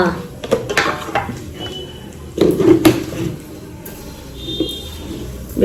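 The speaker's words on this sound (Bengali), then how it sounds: "খুন্তিটাকে একটু ধুয়ে নিয়ে" A metal spatula (khunti) being washed in a home kitchen: scattered clinks and scrapes of metal against dishes, with a louder clattering burst midway, amid running background noise and a voice speaking.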